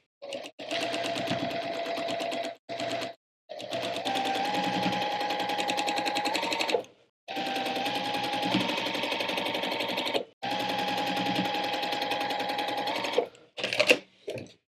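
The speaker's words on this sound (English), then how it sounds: "Let's go sew." A sewing machine stitching quilt pieces runs in four long, steady whirring bursts separated by short pauses, loud and close, with a few brief stops and starts near the end.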